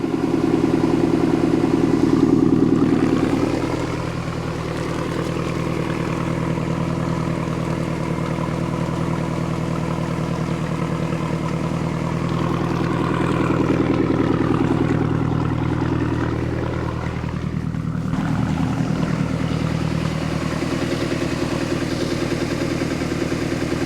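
A 1976 Mercruiser 120hp marine engine on a Mark Twain boat runs steadily at idle, a loud, continuous mechanical drone with a light clatter that holds nearly unchanged for the whole stretch, with no voices.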